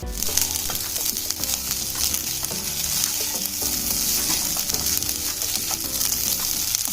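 Fried rice with Schezwan masala powder being stirred and tossed in a pan, giving a steady sizzle with a continuous scraping, clinking stir throughout, loud and close with no talking.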